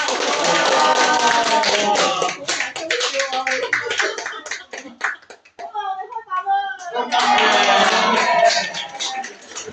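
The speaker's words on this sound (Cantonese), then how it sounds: "啲掌聲大家" A group at a laugh-holding challenge game claps in quick bursts of scattered, close applause, with talk and laughter mixed in and a short lull in the middle before the clapping picks up again.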